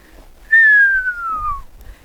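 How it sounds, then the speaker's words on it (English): A person gives one clear, loud whistle that slides steadily downward and lasts about a second, used as a stop cue for a horse during groundwork training outdoors. "you'll notice that I actually do a little whistle"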